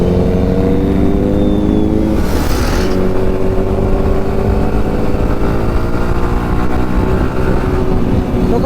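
A car driving along a road, its engine a steady, loud drone with harmonic tones that slowly rise and fall as it shifts speed, with a brief whooshing pass partway through.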